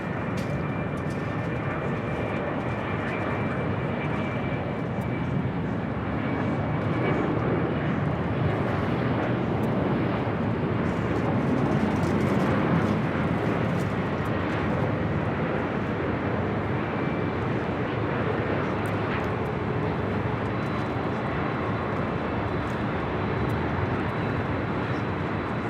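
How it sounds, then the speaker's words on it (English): An SAS Airbus A350-900 arrives at LAX, its jet roar a steady broadband rush that holds at a moderate distance throughout, with no voices. "SAS A350-900, the next arrival here."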